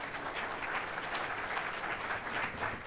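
A crowd applauds at the UGA Griffin fall 2018 graduation ceremony, a continuous even roar of many hands clapping, somewhat distant and fairly quiet.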